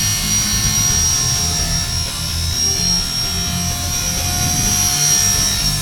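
Steady, droning whine of a small Heli Max UH-60 Blackhawk model helicopter's rotor and motor, constant and loud throughout with a high-pitched tonal hum.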